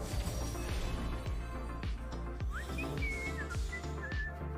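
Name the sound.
character whistling menacingly in the video game Legends of Runeterra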